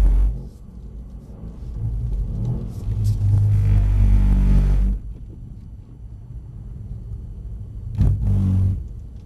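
A rear-wheel-drive Mercedes-AMG C63 on a track, its engine rumbling and rising as it accelerates in two loud surges separated by a quieter stretch.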